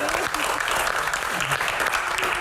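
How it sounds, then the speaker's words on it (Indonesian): At an Indonesian panel discussion, the audience claps for guest stars and panelists in loud, continuous, fairly dense applause, with voices faintly mixed in. "Berikan tepuk tangan yang paling meriah sekali lagi."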